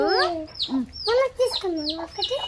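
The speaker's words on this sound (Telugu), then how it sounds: "ఇదే చిన్న కోడి పాపం భయపడుతుంది." A small chicken, frightened, clucks and squawks in a rapid series of short, agitated calls, close and fairly loud, with no talking.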